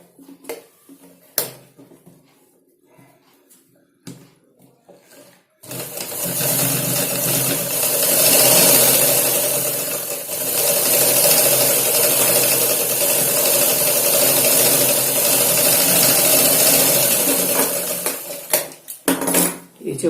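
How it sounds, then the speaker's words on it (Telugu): A sewing machine stitches a blouse lining in one long, steady whirring run lasting several seconds, bracketed by quieter clicks and fabric handling before and after. "ఇప్పుడు మనం ఈ మార్కుల ప్రకారం కుట్లు వేసుకుంటే వెళ్ళిపోవాలి."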